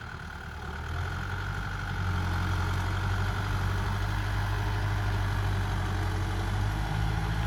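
A Kubota M6040 SU tractor engine idles in a rice field with a steady low rumble, growing slightly louder after a couple of seconds and holding constant.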